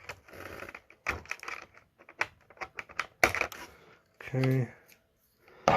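Scissors snip and crackle through plastic toy packaging holding a NECA TMNT 2 Super Shredder figure, in short close clicks and crinkles, with a brief spoken word in between.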